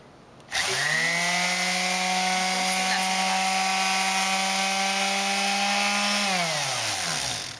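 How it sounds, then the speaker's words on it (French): An electric sander starts up and runs steadily on wood, a loud droning whir with a constant pitch, then winds down at the end. "On peut poncer les surfaces planes comme ici, mais on peut aussi poncer les côtés."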